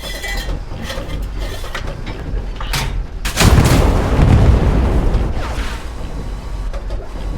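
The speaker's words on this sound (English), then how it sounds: "it can penetrate the back and destroy it with one shot with HE, which I will show now" A tank's 50mm cannon fires an HE shell in the WWII shooter Hell Let Loose: one heavy, close boom with a rolling rumble, set among scattered distant gunfire and mechanical clatter.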